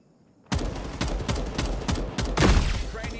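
Rapid bursts of gunfire from the shooter game FragPunk during a competitive 5v5 match, fired while strafing sideways, with repeated loud close shots over a dense battle din.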